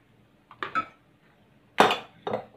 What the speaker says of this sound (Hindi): ये मैंने अपना कुकर ले लिया है,